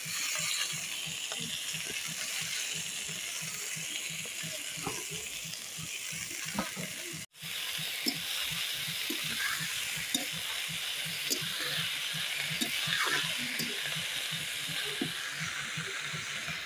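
Spinach and chickpea greens sizzle and crackle steadily in a hot pan, with faint stirring clicks scattered through and one brief dropout in the middle.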